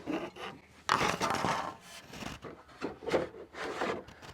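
A roughly 2 to 3 pound metal cooking grate is lifted and set down inside a solid metal Nomad portable grill. Loud scraping and rattling metal handling sounds run throughout, with a sharper clank early on.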